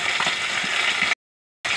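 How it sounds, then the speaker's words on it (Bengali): Small puti fish frying in hot oil give off a dense, steady sizzle heard up close, with a short abrupt silence near the end before the sizzle resumes. "তার সাথে একটা পুঁটি মাছ আছে, ভাজা হচ্ছে।"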